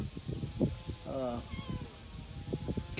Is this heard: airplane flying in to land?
no